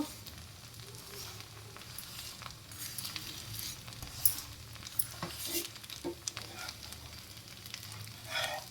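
Onion dosa sizzling and crackling on a hot pan, a steady frying hiss broken by small pops and spatula scrapes, close and fairly quiet, with no talk.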